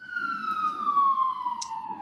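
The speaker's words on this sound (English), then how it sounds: "We hear sirens so much these days." Emergency vehicle siren wailing past outside, a steady descending tone with harmonics that stays moderately loud across about two seconds, with no talk over it.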